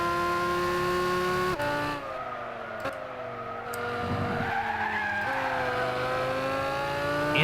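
Lamborghini engine droning steadily while the tires skid and squeal through thick smoke, a continuous near roar with a pitch dip and shifting screech, no talking.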